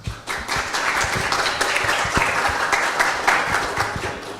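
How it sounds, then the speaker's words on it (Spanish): An audience at a soybean research talk applauds, a steady crowd of clapping hands with some louder individual claps up close, sustained throughout. "quería hacerles un aplauso"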